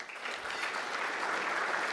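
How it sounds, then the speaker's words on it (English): A crowd at an annual business awards ceremony applauds in a dense, even wash of clapping that holds at a constant level for the whole short stretch. "How about a round of applause?"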